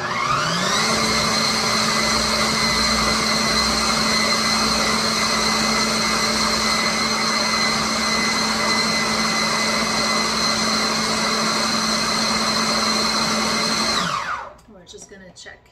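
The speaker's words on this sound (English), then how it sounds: "So let's start off by mixing this in the food processor" A food processor whirs loudly and steadily while blending black bean brownie batter, a constant high motor whine lasting about fourteen seconds before spinning down to a stop.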